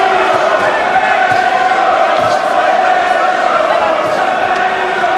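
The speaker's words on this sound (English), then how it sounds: "Crowd trying to lift Maccarinelli again." A boxing arena crowd roars steadily for Enzo Maccarinelli during his fight with Gary Delaney, a loud, continuous din with a commentator's voice over it.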